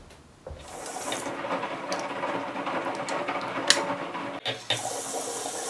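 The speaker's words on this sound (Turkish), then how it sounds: "Banyoda makine çalışıyor." A washing machine runs in a bathroom, heard as a steady rushing, water-like wash that starts abruptly and continues at a moderate level, with a couple of brief knocks near the end.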